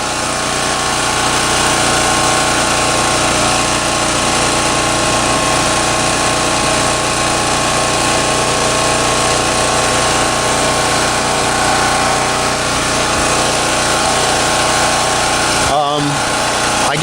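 A portable generator engine runs loud and steady close by, a continuous unbroken drone that holds level throughout, with a brief disturbance near the end.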